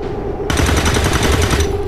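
Rapid automatic gunfire in the video game XCOM 2, a loud close burst of evenly spaced shots lasting over a second over a constant game background hum, with no talking.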